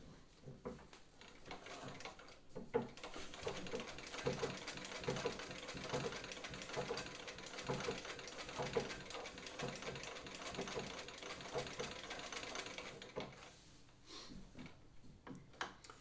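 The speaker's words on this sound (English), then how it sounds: "I'll go ahead and do what's often called spooling, which is getting the machine started" A 1905 Singer 15-30 treadle sewing machine starts up and runs with a steady mechanical clatter, fairly close and continuous, easing off near the end.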